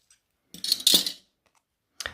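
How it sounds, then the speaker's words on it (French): Scissors cut through a recycled paper envelope in a crafting project, a couple of close crisp snips followed by a pause and one more short snip, with no talking. "je prends ma paire de ciseaux et je vais tout simplement couper en rejoignant les points"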